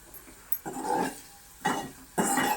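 Whole spices, a bay leaf and ginger-garlic paste hit hot oil in a pan for a home-made tomato egg curry, giving three separate bursts of sizzling with a faint clink of stirring between them.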